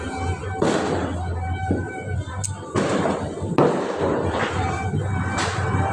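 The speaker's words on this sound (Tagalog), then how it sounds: "Maririnig ko yung mga lakas ng mga paputok nila." Several loud explosive bangs from New Year's Eve fireworks burst out one after another at irregular intervals over a steady background of crackling and distant popping across a smoky city.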